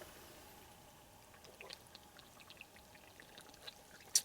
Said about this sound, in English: you can either squeeze it out just like that, or you can just tip it up